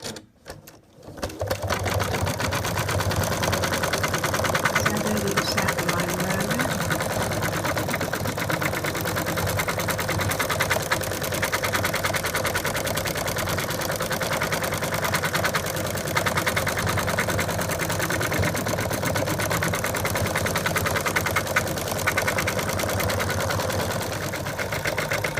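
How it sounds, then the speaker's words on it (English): An embroidery machine runs a satin stitch around an appliqué, a fast continuous needle rattle with a motor hum, close and steady for the whole stretch after a brief quiet start, with no voices. "then it's going to do a satin stitch around"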